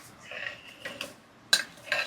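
Spoon scraping and clinking against a pot while a biryani masala mixture is stirred, a few brief metallic knocks and scrapes spread over two seconds, fairly close and moderately loud.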